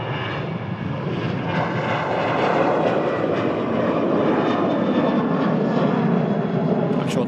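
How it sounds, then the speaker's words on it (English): A Ryanair Boeing 737-800 accelerates down runway 23 right for takeoff, its jet engines a loud, steady broadband roar that holds and builds slightly throughout, heard alone with no voices. "737 rolling on 23 right. It's an 800 series."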